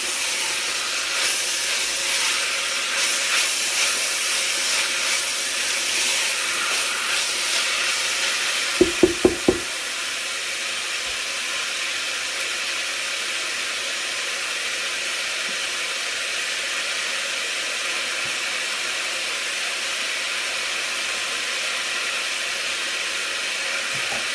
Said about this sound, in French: j'ai mis de l'eau à chauffer avec du gros sel pour faire commencer à précuire les pâtes